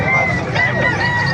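Chickens at a Calumpit, Bulacan gamefowl market cluck and squawk in a dense, close overlapping chorus, with bustling market noise and voices mixed in.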